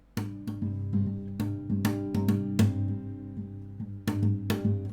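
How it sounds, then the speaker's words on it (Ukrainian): Electric guitar chords played softly with the fingers, each strum a gentle attack that rings out, several strums in a slow, steady pattern. "Я взяв і ось такі акорди зіграв пальцями."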